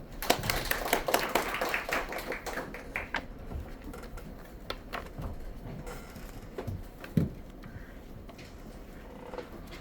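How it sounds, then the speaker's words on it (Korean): An audience at a company branch morning meeting claps to welcome a guest speaker: a dense burst of hand claps for the first few seconds, then thinning to scattered, sparse claps. "박수로 모실게요"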